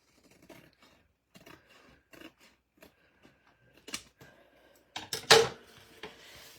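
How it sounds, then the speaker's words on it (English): A big pair of scissors cutting card stock for a handmade gift card holder: scattered soft snips and scrapes, then a louder cluster of crisp cuts near the end, close and otherwise quiet. "I've got a big pair of scissors down here. So I'm just going to cut that little bit off."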